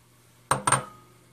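Two quick clinks as eggs go into a bowl of cake mix for Oreo birthday cupcakes, close and brief, with a faint hum behind.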